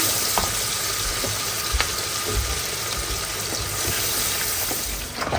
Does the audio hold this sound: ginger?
yes